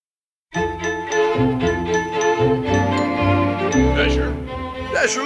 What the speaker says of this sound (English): Isn't that Jingle Bells?